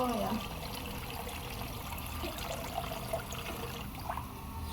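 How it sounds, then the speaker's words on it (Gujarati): Water trickles and pours steadily into a pot of eggplant, potato and cauliflower curry, a faint, continuous liquid sound against a low background hum. "આપણે પાણી નાખવાનું છે શાકની અંદર"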